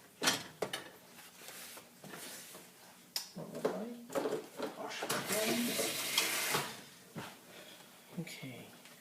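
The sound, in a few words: whisking gujarati kadhi in a pot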